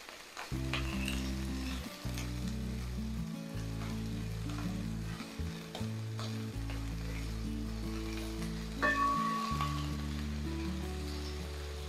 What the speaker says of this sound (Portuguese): Eu quero essa carne bem selada e o mais rápido possível, justamente para não criar essa água na panela